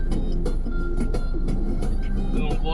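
Heavy road traffic with lorries and buses on a congested street, a continuous low rumble of idling and crawling engines with scattered horn-like bursts, voices faintly mixed in.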